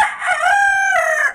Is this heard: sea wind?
no